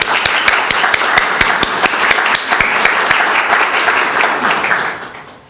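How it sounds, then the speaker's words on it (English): An audience at a cystic fibrosis talk gives a round of applause, with close, sharp individual claps standing out over a steady crowd clapping that fades away at the end. "Please join me in giving them a round of applause."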